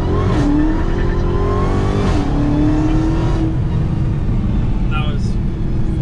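A Dodge Charger Hellcat widebody rumbles loudly from inside the cabin, engine revving and rising in pitch as it sets up a launch-control start, with people talking over the steady engine roar.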